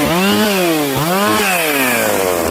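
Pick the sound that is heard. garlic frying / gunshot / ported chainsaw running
ported chainsaw running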